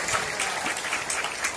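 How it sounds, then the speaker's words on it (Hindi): Audience applause for a poet at a Hindi poetry recital on stage, a brief, steady burst of many hands clapping together at moderate volume, with no talk over it. "तालियां इसलिए बजवा रहा हूँ क्योंकि बाद में भरोसा नहीं।"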